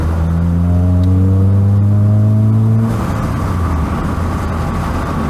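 A small car's 1.2 litre engine revs up loudly from inside the cabin, the tone climbing steadily for about three seconds before dropping to a rougher, lower rumble as it settles, with no talking.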